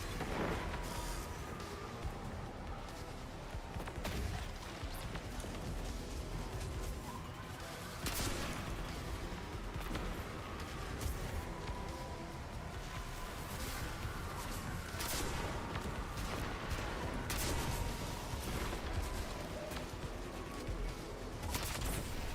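Rocket launchers fire in a video game battle, setting off a dense, continuous barrage of loud blasts and explosions with no pause across the whole stretch.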